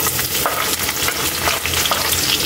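Chopped garlic hitting a hot pan of banana blossom dish and frying with a loud, steady sizzle, close up, with faint stirring scrapes underneath and no voices.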